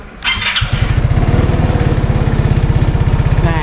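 A Vespa Sprint 125 automatic scooter is started. A brief starter whir rises into a loud, steady, fast-pulsing single-cylinder idle, close by.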